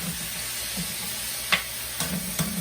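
Zucchini and squash noodles cook in a pan, steaming in their own juices with a soft, low background sizzle broken by a few sharp clicks and crackles.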